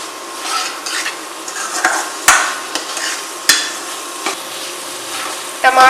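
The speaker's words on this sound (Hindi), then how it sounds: "अब हम टमाटर डाल देंगे जो हमने छोटे छोटे काट लिए थे और टमाटर को भून लेंगे" Chopped tomatoes fried in a pan while making Kerala-style bread upma: sharp spoon scrapes and knocks against the metal ring out over a soft, continuous sizzle, with a few louder strikes near the end.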